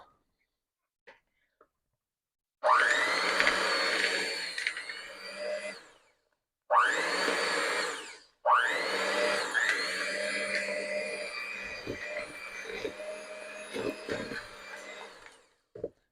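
An electric mixer beats Miss Jones gluten-free monster cookie dough in three bursts, whirring loudly with a strained motor tone. Brief stops separate the bursts, and faint knocks come near the end.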